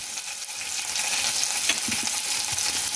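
Cumin seeds sizzle steadily in hot oil with garlic while an eggplant bharit is being made, a close, continuous crackle broken by light stirring clicks.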